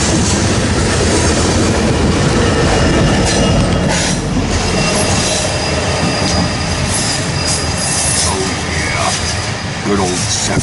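A 70 mag train rolls past at Ashland, Nebraska with a loud, sustained rumble, wheel clatter and high metallic squeals, heard close for the full stretch.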